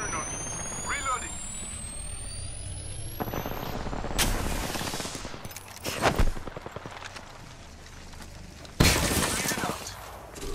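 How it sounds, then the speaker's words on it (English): Enemy gunfire in a shooter video game, with bursts of shots crackling over a busy mix of game noise, a rising whine and loud sharp blasts, while a voice talks throughout. "They're firing on me."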